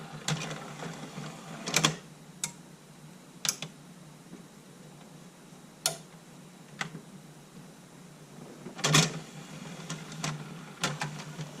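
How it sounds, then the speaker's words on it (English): The CD tray of a Sony MHC-GX99 stereo retracts as the unit powers off during disassembly, heard as a few sharp clicks and mechanical clacks over a quiet low hum, scattered across the clip. "If you power it off, okay, the tray retracts."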